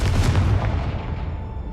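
A Confringo blasting spell in the Hogwarts Legacy video game goes off as a single loud booming explosion that hits at once and then rumbles and fades over a couple of seconds.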